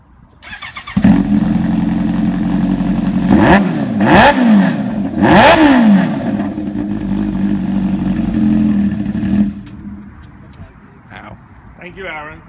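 A Kawasaki H2 motorcycle engine starts up loud and close, idles with a rough mid-pitched roar, then rises in several sharp revs before cutting off, leaving faint voices and background sounds.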